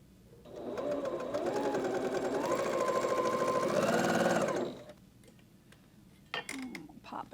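Sewing machine stitching quilt pieces for a Pumpkin Spice quilt-along runs in a steady buzzing whir for about four seconds, then stops, leaving quiet room tone and a few small clicks.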